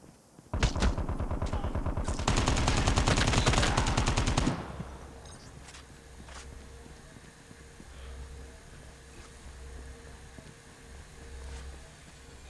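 Automatic gunfire from a Call of Duty Mobile battle royale match, a loud close burst of rapid shots for a few seconds followed by quieter scattered ambient game sounds.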